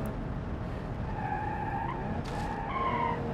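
Tires squeal and skid in BeamNG as a car loses its back end, a tonal screech wavering over steady engine and road rumble, close and continuous.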